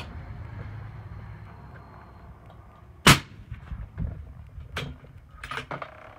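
A single 6.5 Creedmoor rifle shot fired through a Thunder Beast Ultra suppressor cracks sharply midway through a quiet outdoor range, followed by fainter thumps and small clatters.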